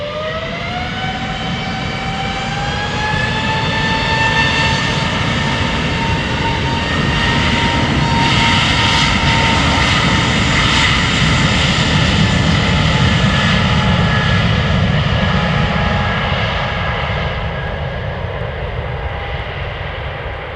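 Jet airliners taking off from Amsterdam Schiphol Airport, one loud, close engine roar swelling and holding steady, with a rising whine over the broad rumble, alone without voices.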